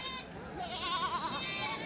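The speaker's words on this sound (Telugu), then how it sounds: "కదిరి సంతలో పెద్ద సైజు మేకలు" Goats bleat in wavering, overlapping cries amid a busy crowd at the weekly Kadiri livestock market, the calls steady and fairly close throughout.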